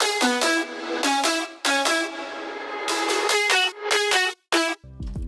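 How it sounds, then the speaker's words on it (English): Synthesized guitar and pluck lead built in FL Studio with effect plugins, playing a bright, punchy melodic line of short repeated notes in bursts with brief gaps, ending on a lower tail. "I'll play you the guitar and pluck together once again with all these plugins on"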